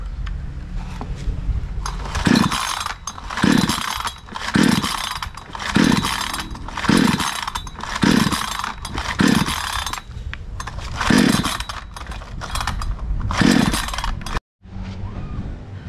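A 20-inch mini chainsaw engine, just refitted with a new carburetor, revs loudly in repeated rhythmic bursts of about a second each, roaring up and dropping back several times before cutting out abruptly, then idling faintly.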